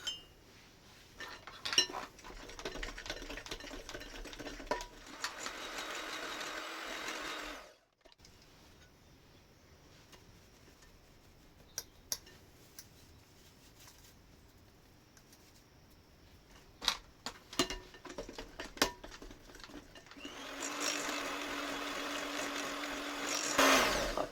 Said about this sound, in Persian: حالا دیگه من همزن رو میذارم کنار